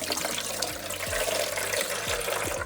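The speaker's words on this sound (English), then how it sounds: "Let's add some water." Water pours steadily into a tabletop tile saw, a continuous splashing trickle with small gurgles, close and moderately quiet.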